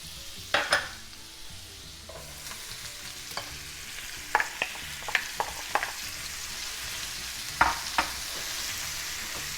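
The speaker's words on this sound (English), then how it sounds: "We're gonna saute those in 3 ounces of butter in the same pan that we just" Onion and baby bella mushrooms sauteing in butter in a pan used earlier for steak drippings: a soft, even sizzle punctuated by scattered clinks and scrapes of stirring, nearby and unvoiced.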